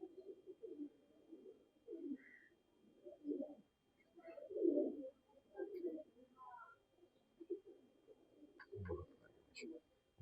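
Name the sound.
pigeons cooing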